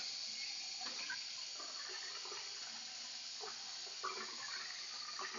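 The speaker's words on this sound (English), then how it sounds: "So get some really hot water, rinse it out." Hot water runs steadily from a tap into a sprouting container as it is rinsed out, a continuous close splashing hiss with occasional sloshes and no talk.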